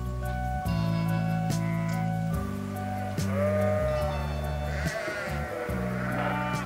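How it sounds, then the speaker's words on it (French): Sheep bleat on the open limestone plateau of the Causses in Midi-Pyrénées, several overlapping calls near and far, some long and wavering, forming a steady chorus with no talking. "Il y a toujours eu des brebis sur les causses"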